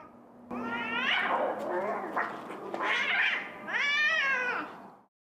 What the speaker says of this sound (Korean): 길고양이들이 묘한 기운을 풍기더니 도로 한가운데서 싸움을 시작합니다.